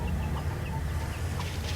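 A mother hen of a free-range village chicken flock gives a few soft clucks amid a constant low rumble and rainy background noise.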